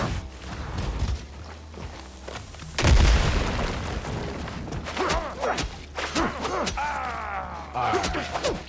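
Bombs dropped in a game explode in a heavy boom near the three-second mark. Further thuds, crashes and mechanical clatter follow in a busy, loud mix.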